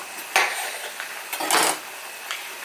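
A knife cuts crosswise through a tomato on a board in a home kitchen, making two or three short, crisp chopping knocks up close with no talking.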